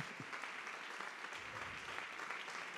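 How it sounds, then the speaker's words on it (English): Steady applause from an audience at an evening talk on social business, a dense wash of many hands clapping continuously at moderate distance with no voices over it. "A big applause."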